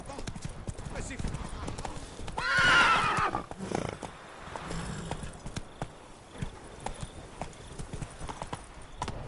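Roach, the horse in The Witcher 3 video game, trots with rhythmic hoofbeats on ground throughout, close and steady, with a neigh partway through and a voice speaking over it.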